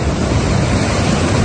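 Ocean surf rolls in at Sodol Beach in Jumunjin, Korea, on a summer day, a loud, steady wash of breaking waves mixed with wind buffeting the microphone, with no talking.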